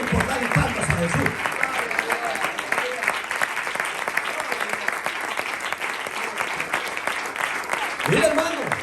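A church congregation breaks into loud, sustained applause, a thick continuous rattle of many hands, with a voice heard briefly at the start and again near the end.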